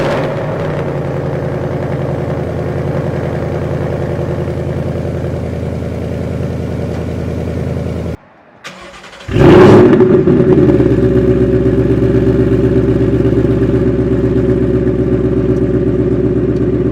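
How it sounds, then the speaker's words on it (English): A lowered Ford Mustang GT with a new X-pipe exhaust idles loudly with a deep, steady rumble, cuts out briefly, then gives a single sharp rev before settling back into a throaty idle. "we'll do a couple revs and we'll do the first drive with my X-Pipe"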